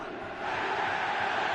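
Stadium crowd noise from a PES 2016 football video game, a broad steady roar of cheering that swells slightly after the first moment and holds loud to the end, with no clear talk on top.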